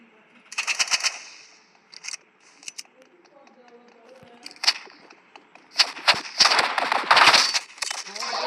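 Gunfire in the video game Rivals: scattered bursts of rapid shots, sharp and close, growing denser and louder toward the end, with a voice talking between shots.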